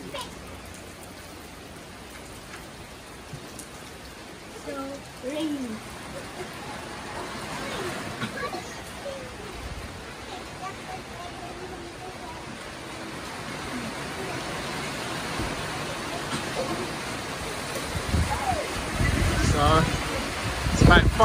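Heavy rain pours steadily while wind gusts build during Super Typhoon Odette (Rai), growing louder toward the end, with a voice speaking briefly underneath.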